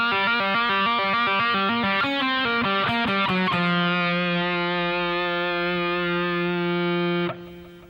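Distorted electric guitar playing a classic rock lick without a tremolo bar, a quick run of picked notes settling into one long sustained bend-free note that rings loud and then cuts off abruptly near the end.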